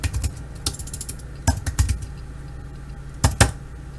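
Keys on a Mac-specific keyboard click close by in short irregular bursts, single taps and quick pairs separated by brief pauses, against a quiet room background.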